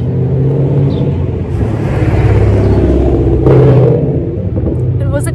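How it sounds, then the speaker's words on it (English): A car drives past a home driveway, its engine rumbling loudly as it approaches and swells to a peak before fading, heard nearby with a steady low roar throughout. "It was a car."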